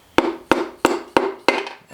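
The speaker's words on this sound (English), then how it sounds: "I use my little dead blow hammer right here" Five sharp, evenly spaced taps from a small dead blow hammer striking an engine part during an LS engine rebuild for an S10 swap, each one a close, punchy knock with a short ringing decay, and no talk.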